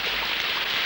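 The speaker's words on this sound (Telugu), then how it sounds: "వర్షం చూడు ఎంత అందంగా కురుస్తుందో." Rain falling steadily outdoors, a dense even hiss of drops with no voices, heard close and continuous.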